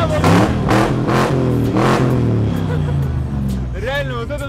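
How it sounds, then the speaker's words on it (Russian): A 5-litre car engine revs hard through a loud exhaust, swelling roars in repeated bursts, close and powerful, with music or voices running underneath throughout. "Реально, вот это настоящие 5 литров. Просто адский выхлоп."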